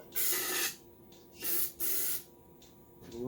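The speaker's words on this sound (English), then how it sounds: "A little bit of carb spray." Carburetor cleaner sprayed into the carb of a Kohler Courage 19hp engine on a Cub Cadet LTX1042 mower, giving three close, loud hissing bursts of about half a second each, separated by short quiet gaps.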